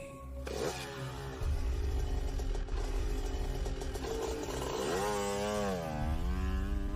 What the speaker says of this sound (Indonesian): aku pun mulai berangkat dengan motor trailku